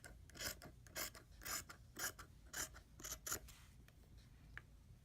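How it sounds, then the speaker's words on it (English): Scissors snip through fabric while making a doll pillow at close range, about nine quiet, rhythmic crisp cuts spaced roughly half a second apart, then a faint final snip. "we're just gonna use our scissors"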